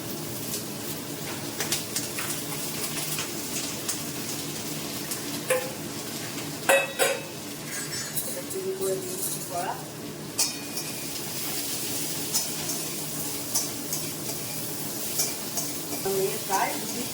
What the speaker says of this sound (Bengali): আজ আলু ভাজা হবে আর তোমরা জানোই আমি আলু ভাজা একটু পাঁচফোড়ন আর শুকনো লঙ্কা ফোড়ন দিয়েছি